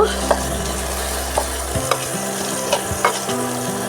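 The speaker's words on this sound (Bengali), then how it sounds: "এই তো আমার পেঁয়াজটা মজে আসছে" Onions frying in a pan for a potato dal and stem stir-fry dish, giving a steady low sizzle with scattered soft clicks and stirring scrapes throughout, close up and without voices.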